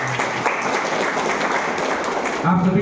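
Applause from an audience at a school assembly, a dense, steady wash of clapping from many hands, close and loud, with a voice speaking over it.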